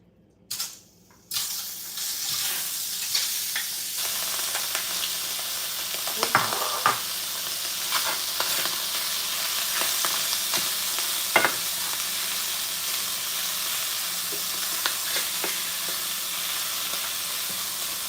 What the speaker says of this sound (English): We'll add a little oil. And then we'll add the shrimp.